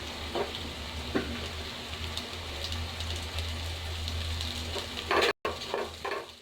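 Mint leaves and green chillies sautéing in a pan for egg dum biryani, a soft continuous sizzle with intermittent stirring scrapes and spoon taps, fairly quiet and close.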